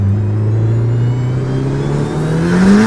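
A built Honda Civic making around 400 HP, with a fully built head, revs hard and loud, its engine note climbing steadily in pitch over about three seconds with no talk.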